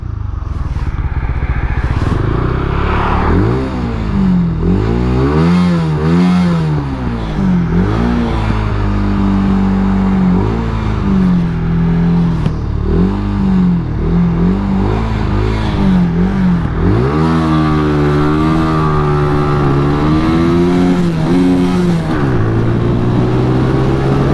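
A motorcycle rides past close and loud, its engine revving up and down in repeated sweeping surges over a steady, continuous roar, with no talking.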